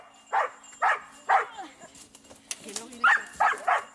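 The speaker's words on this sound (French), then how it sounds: "une explosion de jappement qui signale que Sky a retrouvé la victime" A Malinois search dog barks in a quick series of sharp, loud yaps, about seven in all, pausing briefly midway, close by, signalling it has found a victim during a canine rescue exercise.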